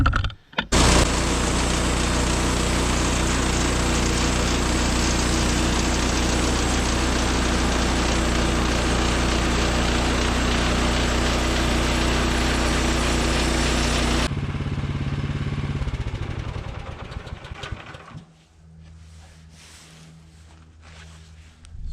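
A Woodland Mills sawmill's engine roars loudly and steadily while it cuts a 1-inch board from a log, then drops to a lower rumble as the cut ends and the engine winds down.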